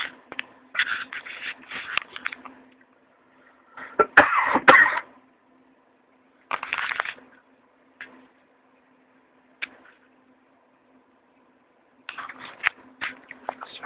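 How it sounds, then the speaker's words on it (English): A person coughs in several short bursts with quiet gaps between them, close to the microphone indoors, and a steady low hum runs underneath. "I still got a little cough with it"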